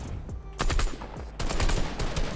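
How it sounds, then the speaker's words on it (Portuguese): Bursts of enemy gunfire in a Fortnite match: loud, rapid automatic volleys come in two clusters, separated by a short lull, with dense crackling shots that fill most of the clip. "O outro atirando!"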